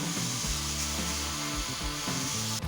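A sandpaper drill bit sands a steel fork from an early-90s mountain bike, a close, steady rasping whir with rhythmic pulses as the bit sweeps back and forth, heard alone for a few seconds.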